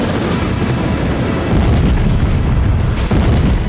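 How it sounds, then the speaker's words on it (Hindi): A loud, sustained low rumbling boom from an explosion in the sky over Moscow, rolling continuously with a heavier swell partway through and no voices. "मॉस्को में एक जोरदार धमाके ने रूस की एजेंसियों के होश उड़ा दिए"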